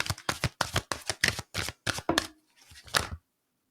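A deck of tarot cards is shuffled up close in quick repeated riffles, roughly eight crisp bursts in a steady rhythm followed by a softer final shuffle, with no voices.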